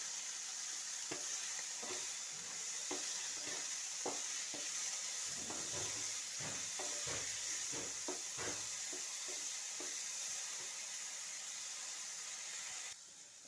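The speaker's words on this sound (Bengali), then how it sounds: "এই দেখুন, বেগুনটা আমার ভাজা হয়ে গিয়েছে।" Brinjal frying with salt and turmeric in a kadai, a constant hissing sizzle broken by repeated scraping stirs of a spatula, close up and steady for the whole stretch, no voices.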